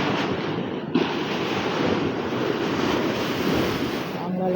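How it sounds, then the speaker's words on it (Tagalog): Heavy ocean surf at the Dipolog City boulevard crashes continuously with a broad, roaring wash, wind buffeting the microphone throughout. "Ang lalaki ng alon"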